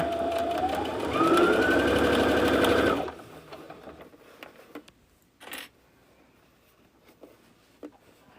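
A sewing machine stitches a seam on a boxy fabric bag with a fast, steady, close mechanical whir for about three seconds, then stops, leaving faint handling taps and rustles.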